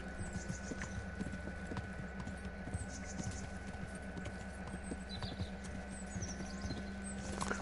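A horse's hooves in the video game Kingdom Come: Deliverance clop in a quick, steady rhythm along a road, faint and even, over a low constant hum with no talking.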